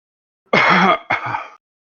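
A person at a podcast live stream coughs or clears their throat right into the microphone, two harsh, loud bursts close together and then silence.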